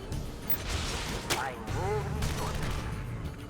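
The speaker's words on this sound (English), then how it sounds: "we gotta also try that Firestorm Barrage" Firestorm Barrage attack in the PC strategy game Command & Conquer, a dense run of rattling explosions and mechanical bursts with whooshing sweeps, loud and continuous with game chatter mixed in.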